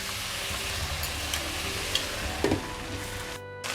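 Okra with tomatoes frying in a pan, a dense steady sizzle heard close, with a couple of light utensil clicks and an abrupt cut at the end.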